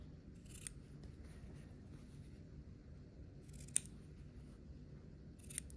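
Scissors snip away fabric overhangs on a scrappy sampler quilt block, three faint, sharp isolated cuts spaced a few seconds apart over a quiet room hum.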